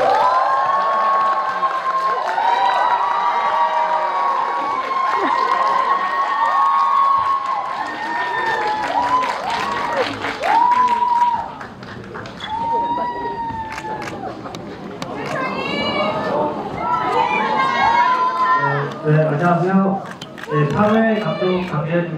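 Cinema audience at a stage greeting for the Korean film Exhuma claps and cheers as the cast arrives; scattered applause and excited shouts continue under lively crowd chatter and amplified talking throughout.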